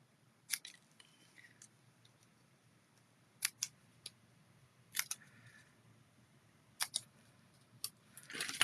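Scissors trimming card paper at a crafting table, a series of sharp isolated snips spaced irregularly, close and crisp against a quiet background, ending with some rustling handling.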